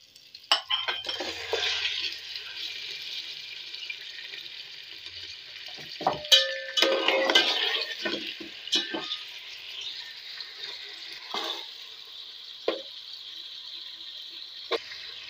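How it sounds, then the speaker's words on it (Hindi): Chicken for a green handi karahi fries in a pan with a bright, steady sizzle. Close, irregular clinks and scrapes of a stirring utensil against the metal come in bursts. "चिकन को अच्छे से फ्राई करेंगे।"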